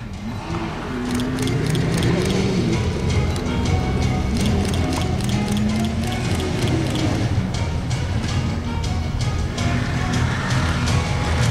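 A Swiss-built TATV 1200 all-terrain military vehicle drives at an outdoor defence show demonstration, its engine a steady loud rumble with rattling mechanical clanks throughout.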